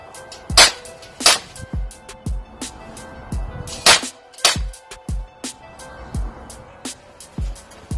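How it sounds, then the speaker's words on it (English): Sharp pistol shots crack out at a police pistol shooting stage in quick pairs and singles, each a loud, brief report with a short echo, repeating about a dozen times across the stretch. "two shots to the chest, one shot to the head, then two shots to the chest, one to the head"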